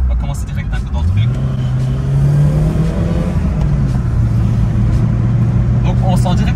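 Inside a Volkswagen Golf 2 GTI G60, the engine drones loudly and its pitch climbs through an accelerating gear, shifts, then keeps pulling steadily while people talk over the cabin noise.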